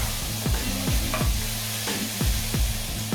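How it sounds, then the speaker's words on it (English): Carrots stirred in olive oil in a pan for vegan Bolognese sauce, a loud close sizzle with rhythmic scraping strokes repeating about twice a second. "And just stir and stir."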